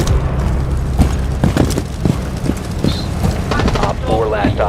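Frag grenade blast in the Rainbow Six Siege video game, a booming burst among several sharp impacts and thuds in a busy mix, with voices talking over the action.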